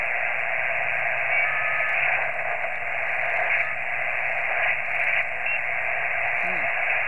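Steady hiss of static from a portable ham radio rig tuned to an empty 10 meter band, a continuous band-limited noise with no voices or signals breaking through, loud and unchanging throughout.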